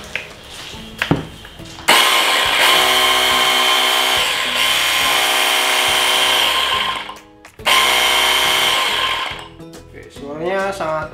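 A 24V cordless battery-powered jet cleaner for washing cars runs with a loud, high-pitched motor whine. It cuts off briefly, restarts, and ends with someone speaking.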